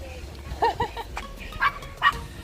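A few short dog barks come from inside a packed Ford Bronco, muffled and spaced apart, with low cabin rumble underneath.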